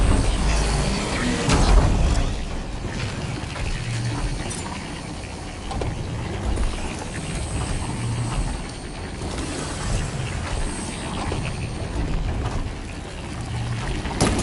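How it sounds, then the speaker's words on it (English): A rotating gear mechanism in Horizon Forbidden West grinds and clanks, with ratcheting clicks and mechanical churning running continuously, occasional heavier knocks and thuds over a busy ambient bed. "I need to shoot the gears when they rotate to the right spot"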